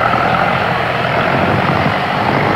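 Military aircraft roar steadily on the deck of a Vietnam War-era aircraft carrier in the 1960s, a loud continuous engine drone with no breaks and no talking.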